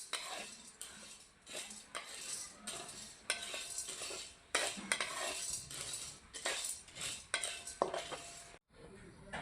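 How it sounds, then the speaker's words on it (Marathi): Chana dal is dry-roasted in a pan over low heat, stirred with a metal spoon that scrapes and clinks repeatedly in an irregular rhythm, close and fairly faint, with a brief pause near the end. "हरभरा डाळ भाजून घेऊया आपण. ही मंद आचेवर भाजून घ्यायची."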